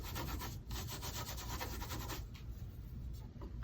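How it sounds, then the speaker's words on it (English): Gold leaf rubbed onto stamped paper by hand, a continuous close, dry rubbing and scratching texture with steady strokes and no voices. "take our gold leafing, which are giant leaves, and just put some on here and rub it on there"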